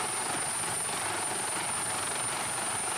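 Basarnas helicopter HR-3604 flying on a medical evacuation flight, a loud, steady rotor and engine roar holding constant throughout.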